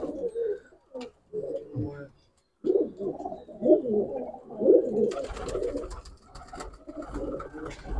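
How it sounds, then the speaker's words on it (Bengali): Pigeons coo in a crowded loft of Madrasi pigeons, a steady murmur of throaty calls under a voice talking close by, with a brighter rustling hiss joining in the last few seconds. "প্রচুর পায়রা হয়ে গেছে"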